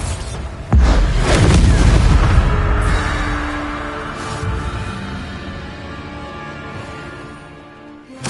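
A Bombarda spell blasts in Hogwarts Legacy, a sudden loud boom that rumbles and slowly fades over several seconds into a lingering low tail.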